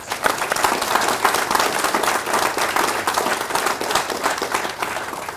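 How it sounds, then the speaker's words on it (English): An audience at the Dane G. Hansen Scholarship Hall groundbreaking claps steadily to welcome a speaker, a continuous, fairly close round of applause that eases slightly at the end. "Let's give him a round of applause."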